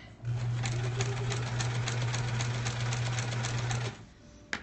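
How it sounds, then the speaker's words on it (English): A sewing machine runs steadily for several seconds, stitching a straight seam on a quilt block with a fast, even mechanical whir and rapid clicking, then stops, leaving a quiet tail with a small tap. "All right, sewing straight, which I'm not good at."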